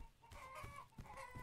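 Chickens clucking in the video game Survive the Nights, a flock of about twenty birds on a ranch, giving a steady run of overlapping clucks and squawks with a few sharper calls standing out.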